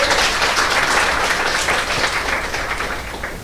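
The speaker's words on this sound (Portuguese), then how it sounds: "Aplauda forte ao Senhor." A church congregation claps loudly and steadily in a dense burst of applause that slowly fades a little over a few seconds.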